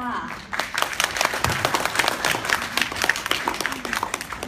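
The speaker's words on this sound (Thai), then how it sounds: "ขอเสียงปรบมือต้อนรับค่ะ" Sustained applause from an audience welcoming a speaker at a talk, a dense wash of many hands clapping steadily at moderate distance for several seconds without letting up.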